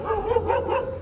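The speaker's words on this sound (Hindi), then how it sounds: "कुत्ते भौंक रहे हैं" Dogs bark in a close, continuous burst that lasts about a second, with no talking over it.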